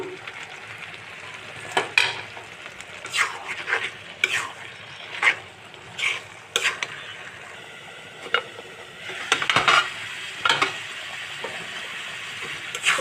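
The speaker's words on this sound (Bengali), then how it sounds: "এখন আমি এই যে কলিজাগুলো দিয়ে দেবো" Beef liver goes into spice paste frying in oil with garam masala and is stirred with a spoon, giving repeated close scraping strokes against the pan in an irregular rhythm over a steady soft sizzle.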